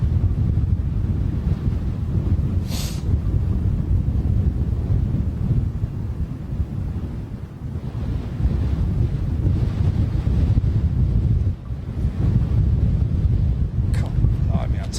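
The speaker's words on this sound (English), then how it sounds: "This wind's pretty biting." Strong, biting wind buffeting the microphone outdoors at London Heathrow Airport, a continuous loud low roar with gusty swells over fifteen seconds and voices faintly present.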